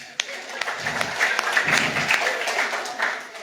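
A church congregation gives brief scattered applause during a sermon, with a few sharp claps standing out over a thinner patter that rises and falls.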